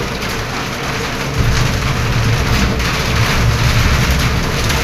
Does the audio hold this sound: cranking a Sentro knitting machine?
no